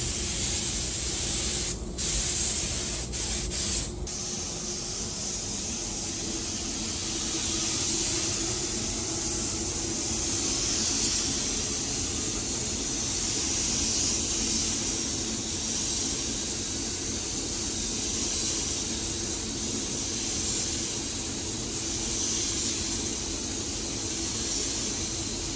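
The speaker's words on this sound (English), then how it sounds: "I say go ahead and clear coat it, Paul." A spray gun lays clear coat on a 2022 Ford Maverick, a steady loud hiss of atomized paint running unbroken for the whole stretch with no talking.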